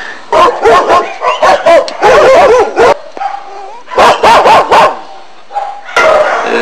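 Dogs at an animal shelter in Bielsko-Biała bark loudly and close in repeated bursts, with yips and a brief whimper between clusters of barks.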